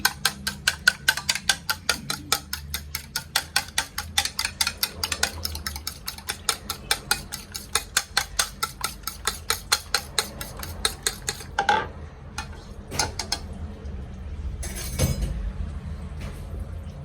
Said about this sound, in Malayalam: രണ്ട് മുട്ട എടുത്ത് നന്നായിട്ട് ബീറ്റ് ചെയ്ത് വെക്കാം